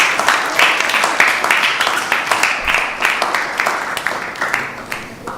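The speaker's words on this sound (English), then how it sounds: "give all the sponsors a big round of applause." An audience claps for the sponsors at a Sunday feast gathering, a steady crowd applause with dense overlapping claps that holds at an even level throughout.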